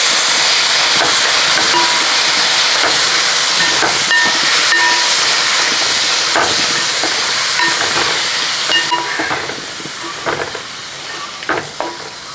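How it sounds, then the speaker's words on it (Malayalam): Beef fry being stirred in a hot pan: a loud, close, continuous sizzle and hiss with scraping stir strokes, easing slightly toward the end, and no talking. "ഇനി ഇതൊന്നും എല്ലാം കൂടെ ഇളക്കി കൊടുക്കാം"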